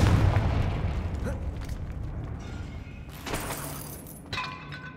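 A Confringo blasting spell going off in a Harry Potter–style video game: a loud, booming blast with a rumbling tail, followed by a couple of smaller crackling bursts.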